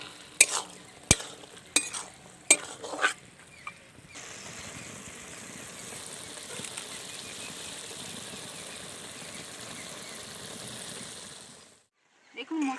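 Banana flower curry simmering in a pan with fried prawns added, first a few sharp clanks and scrapes of stirring, then a steady soft sizzle and bubble running on before a brief silence and a last clatter.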